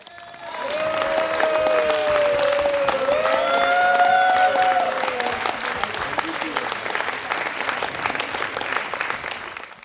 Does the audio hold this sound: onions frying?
no